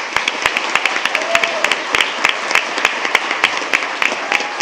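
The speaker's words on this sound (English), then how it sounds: "Let's applaud the efforts of these amazing students and coordinators" An audience at a school board meeting claps for students and coordinators, producing dense, sharp, crackling applause that stays loud and steady for several seconds.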